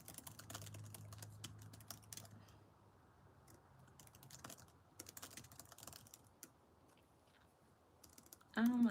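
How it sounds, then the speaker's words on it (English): Typing on a computer keyboard, with scattered quick bursts of soft key clicks and pauses between them, fairly quiet and close, ending in a louder clatter. "Just typing up something."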